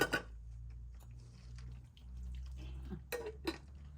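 Metal teapots being washed and rinsed with water, faint clinks and knocks of metal and a soft wet rinsing, with a few sharper clanks near the end and no speech.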